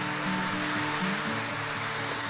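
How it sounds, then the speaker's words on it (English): Steady broadband rush of a waterfall beneath a bridge on Seoraksan in Gangwon-do, a continuous, fairly loud wash of falling water with no talk over it. "I think this is the waterfall that I saw in one of the pictures when I was searching online"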